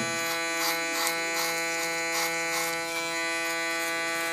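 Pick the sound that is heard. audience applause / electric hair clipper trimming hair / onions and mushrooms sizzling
electric hair clipper trimming hair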